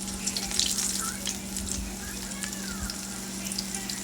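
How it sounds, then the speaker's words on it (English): Salisbury steaks frying in hot oil in a pan, a continuous close hiss and crackle with a steady low hum underneath, no voices heard. "And now I'm going to place my Salisbury steaks inside. There you go. Start cooking instantly."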